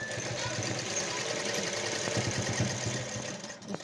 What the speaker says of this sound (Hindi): अब इस पे हम सिलाई लगा देते हैं। पहले हम इस पे सिलाई लगाते हैं एक।